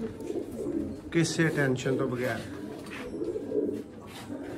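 Pigeons coo softly in the background while someone talks over them for most of the clip.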